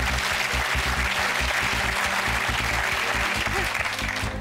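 Dense applause from a studio audience at a home quiz game played for cash prizes, steady and full throughout rather than hushed, with faint voices mixed underneath.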